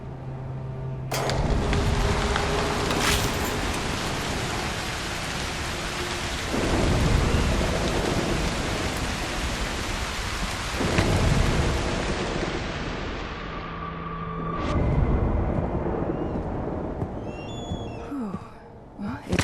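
Thunderstorm with heavy rain in the video game Broken Pieces: loud continuous downpour with rolling thunder rumbles and sharp cracks rising and falling throughout, close and enveloping.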